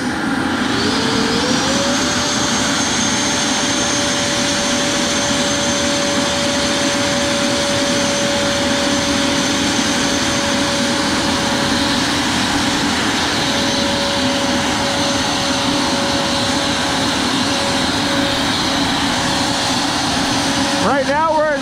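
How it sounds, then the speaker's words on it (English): An RC MD600N model helicopter's turbine holds full RPM in a loud, continuous whine with a steady high tone, constant and close throughout. "Okay, we're at full RPM on the turbine."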